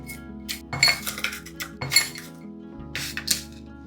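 Crushed ice goes into a glass holding red beans, making several close, bright clinks and rattles of ice against glass in separate bursts, with quiet gaps between them.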